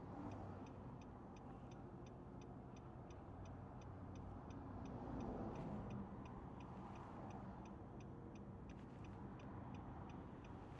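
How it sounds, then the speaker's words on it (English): Heavy road traffic with big trucks, heard from inside a car as a constant broad roar, with a steady rhythmic ticking running throughout and no talk. "Damn, so much traffic."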